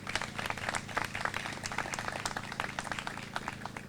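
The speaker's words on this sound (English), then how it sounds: "a big round of applause" Audience clapping in a dense, continuous patter that stays fairly even and distant throughout, at a park opening celebration on the Naugatuck River.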